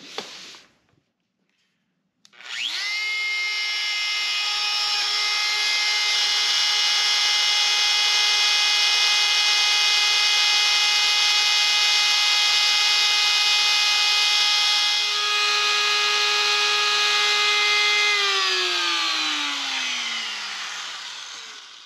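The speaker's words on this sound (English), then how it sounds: "we're going to get the 1/4 inch bit chucked up in our router, and we're going to be cutting some letters" A router fitted with a 1/4 inch bit, cutting letters into a wooden sign, spins up to a loud, steady, high whine that holds for about fifteen seconds, then winds down as the motor slows.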